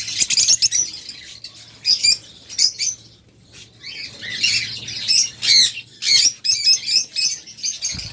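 Pet birds for sale at a market squawk and chirp close by, with many sharp, high, overlapping calls in repeated bursts and brief quieter gaps.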